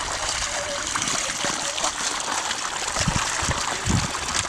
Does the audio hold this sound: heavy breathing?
no